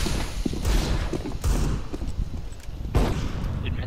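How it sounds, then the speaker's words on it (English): A flashbang grenade is thrown in a shooting video game: a few sharp bangs and thuds punctuate continuous gameplay noise, with a bright burst near the end, and voices faintly in the background. "Throw in the flashbang."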